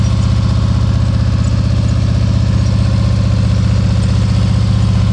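A motorcycle engine runs steadily at low revs during slow-speed riding practice in Texas, a loud, close, unbroken throb with a constant rumble that never rises or falls.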